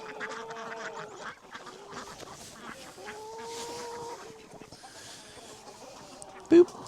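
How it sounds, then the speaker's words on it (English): Ducks running through snow on a farm quack repeatedly in short nasal calls, fairly close, with a brief sharp sound near the end. "Those ducks just running through the snow."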